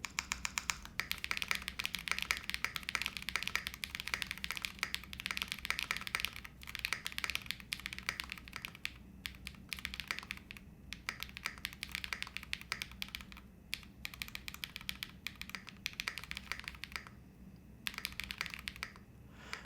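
Typing on a soft-feeling Zonex75 mechanical keyboard: steady, rapid key clacks in a continuous close stream, with only brief pauses and no speech.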